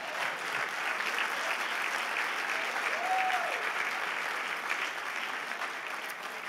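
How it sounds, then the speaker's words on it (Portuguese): Audience applause fills a church gathering of pastors, a steady, dense clapping that holds loud and even throughout, with no voices rising above it. "Então dá um aplauso a ele, por favor"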